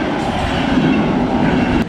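A steady, loud rumble of a train at a station in Cinque Terre, Italy, with rattling wheels and a faint high squeal near the end, no voices.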